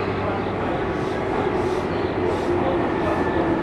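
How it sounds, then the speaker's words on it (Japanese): A Tobu Urban Park Line 10030-series out-of-service train pulls away from Kasukabe Station, a steady loud rumble of wheels and motors with a rhythmic whooshing pulse as the cars pass close by. "回送電車が発車します。"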